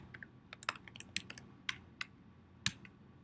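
Typing on a computer keyboard, a quick irregular run of close, crisp key clicks with a few louder taps, quiet and alone.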